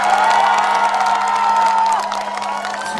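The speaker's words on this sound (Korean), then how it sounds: "박수 한 번만 주시겠어요?" A crowd at an open-air trot concert in Daegu's Gwanmun Market cheers, whoops and claps loudly and steadily, with piercing whistle-like shouts above a dense wash of noise that eases slightly toward the end.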